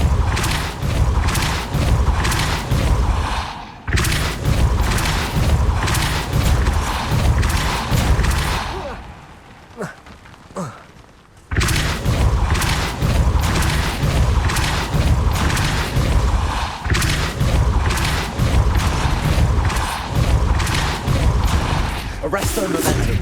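Depulso force spell cast again and again in Hogwarts Legacy on PS5, booming magical blasts and thuds packed into dense combat noise, with a short lull partway through.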